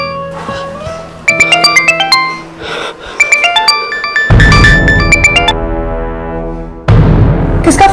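A mobile phone ringtone plays loudly in bursts of bright melodic tones, pausing briefly between repeats and running for several seconds without any voice over it.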